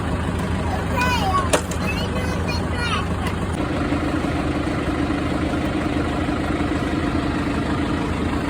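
A tractor engine idles with a steady low rumble beside a cattle pasture, continuous and fairly loud; a voice speaks briefly over it near the start.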